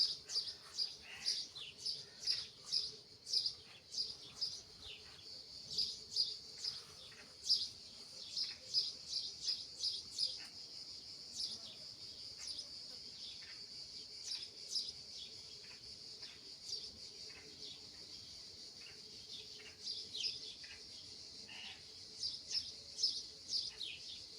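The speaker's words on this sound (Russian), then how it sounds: "Поют птички, летают бабочки." Small birds chirp and sing in a Greek village yard, a steady series of bright, repeated notes at moderate distance over a quiet background with no talking.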